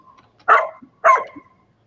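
Two loud, close barks with a dog-like tone, about half a second apart, each followed by faint quieter sounds against a silent background.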